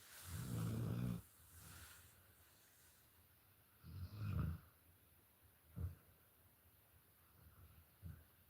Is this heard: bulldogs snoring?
yes